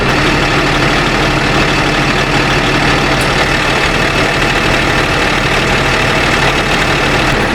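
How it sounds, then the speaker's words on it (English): A Mack V12 truck engine idles loudly and close, a continuous low rumble with a steady mechanical chug that never changes pace. "And one of my subscribers, Cody, wants to hear the sound of the engine"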